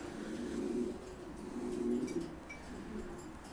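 Pigeons coo softly in a loft housing squabs: two low, rolling coos rise and fade against a quiet background.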